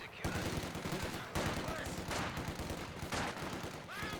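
Bursts of machine gun fire in the World War II strategy game Company of Heroes 2, dense rattling volleys with short gaps between them, loud against battle noise and occasional voices.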